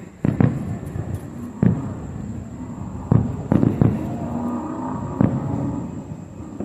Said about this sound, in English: they have fireworks on this side too as well, I see.